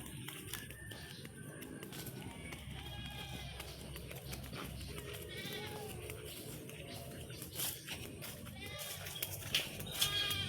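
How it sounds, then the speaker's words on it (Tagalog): Goats bleating in a farm pen, several wavering calls rising over a busy outdoor background with rustling and a faint voice or two nearby. "Ito tayo sa mga kambing guys."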